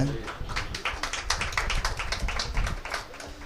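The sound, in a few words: congregation clapping hands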